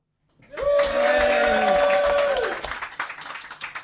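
A studio audience applauds and cheers to welcome a guest from Yeastie Boys onto a beer show, with a crowd of hands clapping and voices whooping over a held musical chord before the clapping thins out.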